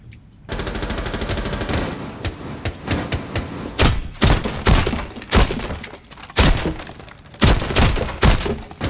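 Rapid gunfire mixed with shattering glass during a plane-map bomb match in Rainbow Six Siege, loud bursts and sharp breaking hits repeating close by throughout.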